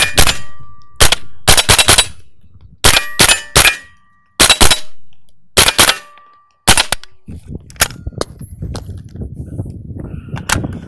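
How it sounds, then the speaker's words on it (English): Suppressed CMMG Banshee .22 rifle with a CMMG Def Can suppressor fired down range outdoors, about ten sharp, close shots in uneven bursts with brief pauses, followed by quieter mechanical handling noise. "So let's get some mags loaded up, fire down range."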